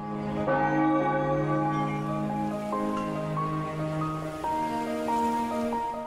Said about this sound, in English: Morning already? I hate that stupid bell.